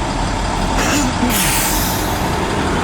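A large bus rumbles past close by, with a brief hiss of air brakes over steady road noise.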